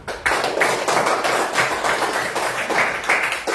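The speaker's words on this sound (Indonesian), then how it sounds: "tepuk tangan untuk kita semua" Children in a classroom clap together after a group activity on food-chain dioramas, close and lively bursts of hand claps in uneven rhythmic waves that fill the whole moment.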